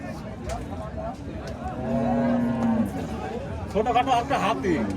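A very large cow at a cattle market held for Eid al-Adha gives a single long, low moo. People speak around it before and after, and the crowd keeps up a steady murmur.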